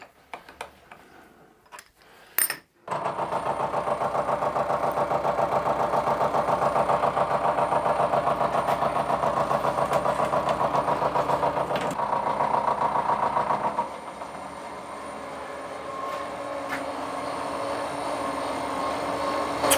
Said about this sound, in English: It's basically only cutting on one side of that tool. It's working more like a fly cutter than a face mill